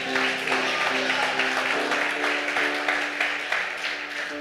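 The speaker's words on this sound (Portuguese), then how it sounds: "Aplauda o Senhor." A church congregation applauds, steady continuous clapping with a held musical tone underneath, moderately loud throughout.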